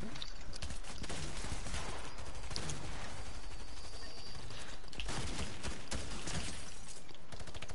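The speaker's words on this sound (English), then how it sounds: "is that the minigun?" A minigun fires in a video game, a relentless rattling stream of rapid shots with sharp breaks and bursts, loud and close throughout, with voices faintly mixed in.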